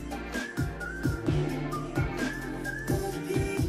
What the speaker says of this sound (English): The whistling is really catchy.